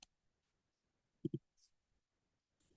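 A few sparse key clicks from typing on a German computer keyboard, quiet and spaced out, with a short double tap in the middle and lighter taps near the start and end.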